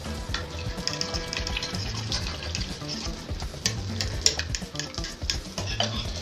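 Butter melting and sizzling in a pan for scrambled eggs, a soft crackling fizz with light stirring scrapes, close and fairly quiet throughout.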